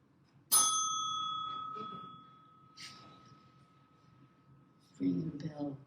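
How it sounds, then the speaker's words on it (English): A single bell is struck once at a poetry reading, a sharp ring with a long fading tone lasting about two seconds, followed by a person speaking. "Ring the bell."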